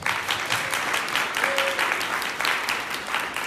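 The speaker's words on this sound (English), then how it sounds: "give Adam a big round of applause" Applause fills a monthly meeting room, a dense, sustained clapping from a crowd that holds steady throughout.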